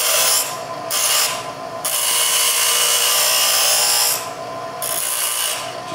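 Feeler gauge steel pick having its curve smoothed on an abrasive, a loud continuous grinding hiss with short drops in intensity, close up and without talk.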